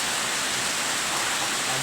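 Steady rain that has gone on for weeks in Aurora, Zamboanga, a dense, even wash of hiss with no pauses, fairly loud and close, with no voices over it.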